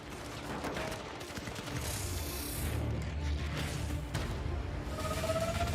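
Rapid bursts of gunfire in the video game Firewall Zero Hour crackle over mechanical clicks and whooshes, fairly quiet and busy, with shots coming in clustered volleys.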